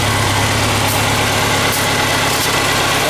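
Close, loud idle of a BMW K1200RS motorcycle engine, a steady low rumble and mechanical vibration holding even throughout with no revving and no voices.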